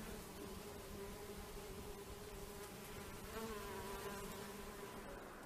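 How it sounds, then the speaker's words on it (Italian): Several bees hover slowly just outside their small hive in mild weather in rural Abruzzo, a soft continuous buzzing drone with no talk over it. "Un lieve tepore invita poche api a volteggiare lente, appena fuori la loro piccola casa."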